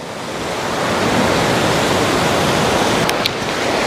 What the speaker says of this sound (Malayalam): വെള്ളത്തിന് നല്ല ശക്തിയായിട്ട് ഒഴുക്കുണ്ട്